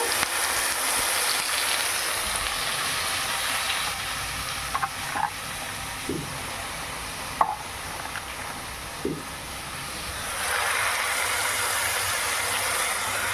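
Spinach with its stems sizzles steadily in a hot cooking pan while being stirred, with a soft continuous frying hiss and a few faint scrapes and clinks from the stirring.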